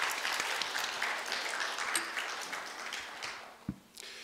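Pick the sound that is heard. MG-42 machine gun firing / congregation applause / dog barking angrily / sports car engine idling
congregation applause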